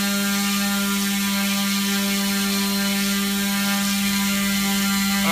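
A small electric motor with a propeller on a thrust test stand spins up toward 6,000 RPM, giving a steady, loud whirring hum with a bright tonal whine that holds constant and rises slightly near the end.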